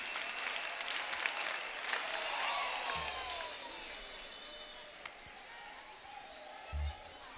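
Church congregation clapping at a praise and worship event, a steady wash of applause with faint singing or voices woven through and a couple of low thumps.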